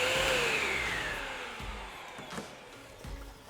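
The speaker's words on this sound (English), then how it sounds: "System number 1, the original standard vacuum." Standard vacuum cleaner used while detailing a car interior, its motor whine falling in pitch as it winds down, followed by quieter bumps and knocks of the nozzle against surfaces.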